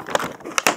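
Action figure packaging being opened with large scissors, plastic crinkling and crackling in a few sharp bursts, close and fairly loud, with no talking.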